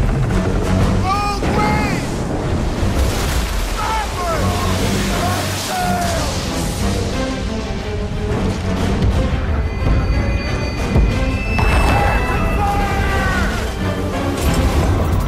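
Naval cannon fire in Assassin's Creed III, with booming, crashing shots over sloshing water and ocean waves in a sea battle, dense and continuous, with a voice talking over it.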